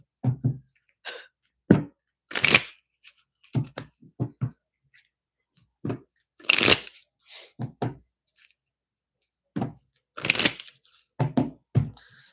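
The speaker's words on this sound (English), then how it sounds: "I heard one more shuffle." Cards are shuffled in short riffling bursts separated by pauses, with soft clicks and taps in between, close and fairly quiet.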